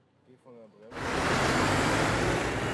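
A Rheinmetall HX military truck pulls away, its engine and drivetrain rising abruptly from near quiet into a loud, sustained, broadband roar close by, with a voice briefly talking just before it starts moving.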